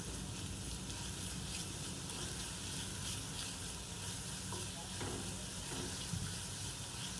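Onion with green chili and garlic paste frying in oil gives off a dense, steady sizzle that runs throughout, with a few faint stirring scrapes and no talking.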